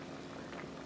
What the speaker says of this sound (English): we're just boiling our shrimp shells